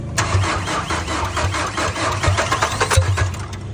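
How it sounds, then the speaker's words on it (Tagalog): A Chevrolet Trailblazer diesel engine cranks hard in rapid uneven pulses and then catches, running with a rough, loud, low chug throughout. "Makikita natin dito na hard start siya. Pero ayan, umaandar naman."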